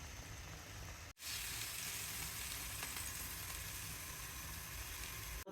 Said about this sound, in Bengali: দুধের সাথে মশলাটা কষিয়ে নেওয়া হবে